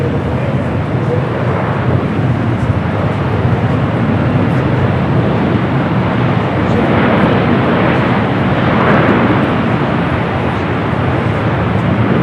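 An older Airbus A330 airliner arriving at LAX from Copenhagen, a loud, steady broadband engine roar that swells slightly toward the end, heard continuously in the open air.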